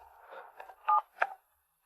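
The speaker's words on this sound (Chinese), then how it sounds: "打他电话，现在！" A short run of telephone keypad tones, several quick beeps in succession, then silence.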